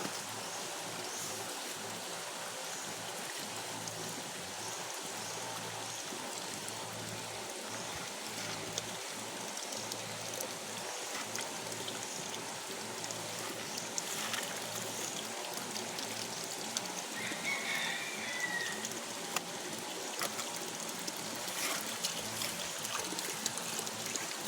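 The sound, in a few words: spring water flowing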